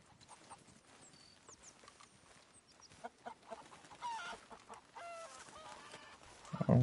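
A Leghorn chicken clucks in Red Dead Redemption 2, heard over outdoor ambience with horse hooves clip-clopping, and a louder burst of clucking near the end.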